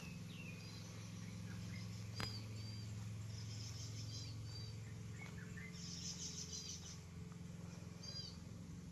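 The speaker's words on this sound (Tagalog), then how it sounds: "huni ng mga ibon ang maririnig natin dito sa property" Small birds chirp in short, faint bursts at a quiet countryside farm resort. A steady low hum runs underneath, and there is one sharp click.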